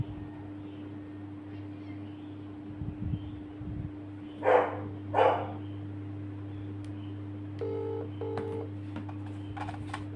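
A short run of telephone dialing tones near the end, after two dog barks, over a steady low electrical hum.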